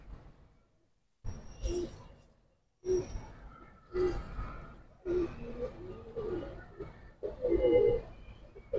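Highflyer pigeons cooing close by in a loft, soft breathy coos in several repeated bursts, with faint background noise between them and no talk.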